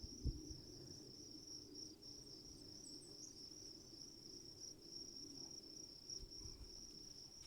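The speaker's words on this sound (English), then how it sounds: "You can hear the crickets chirping" Crickets chirp outdoors at night near a home in Bozeman, Montana, in a steady, continuous high trill over faint low background rumble.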